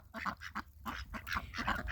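A Cayuga drake duck gives a rapid series of raspy quacks, close and fairly loud, repeating in quick bursts throughout with no talking.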